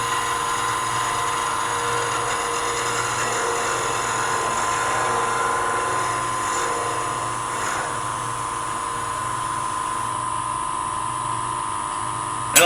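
A wood lathe spins a tagua nut while a parting tool cuts into it, giving a steady, loud, high-pitched whine with faint scraping that holds evenly throughout.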